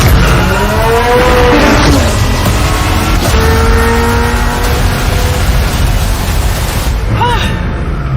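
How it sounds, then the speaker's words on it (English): A twin-turbocharged V8 supercar engine roars loudly as it accelerates, its pitch climbing and dropping in repeated sweeps through the gears, close and continuous. "The reason this car is one of the fastest on the planet is because of its twin turbocharged V8 engine"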